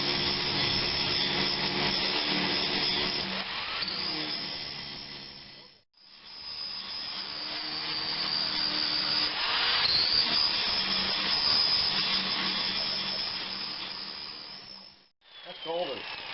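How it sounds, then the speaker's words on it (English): Flap disc grinding on the metal body of an MTD 28-inch 10hp snowblower during restoration: a loud, steady abrasive whine running almost continuously, with two brief drops where the grinder pauses. "I'm using an old flapper disc."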